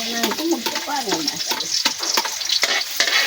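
Garlic fries in a pan with a loud, close, steady sizzle broken by quick scraping stirs, while a brief voice-like warble rises over it near the start.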